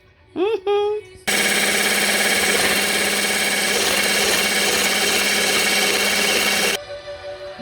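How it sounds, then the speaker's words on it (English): A kitchen mixer whips Jamaican carrot juice in a loud, steady, close whirring roar that runs for several seconds before cutting off, with brief voice sounds just before it starts and a faint hum after. "This carrot juice gonna get a very good whipping today."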